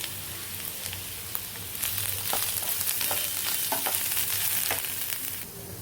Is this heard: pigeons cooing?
no